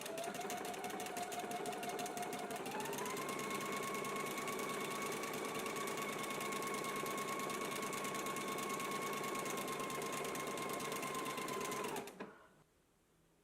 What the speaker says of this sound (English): we can go to the sewing machine and go ahead and stitch on the buttonholes that we can get to.